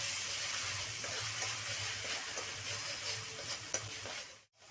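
Mustard paste being stirred into pointed gourd korma in a pan, a steady soft sizzle with faint scraping of the spoon, close and continuous, with no voices.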